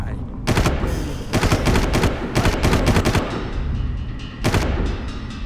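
Rapid bursts of loud gunfire in quick succession, with short gaps between volleys, as weapons fire up close in Far Cry.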